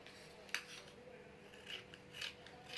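Scissors cut blouse fabric with a few quiet, crisp snips and soft rasping slides of the blades, spaced irregularly and heard alone at close range.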